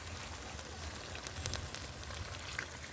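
Chicken pieces dropped into a hot pan for chicken kosha sizzle with a steady, close crackling hiss, dotted with brief pops and spits throughout.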